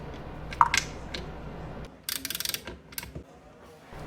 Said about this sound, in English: Take the 4 bolts off.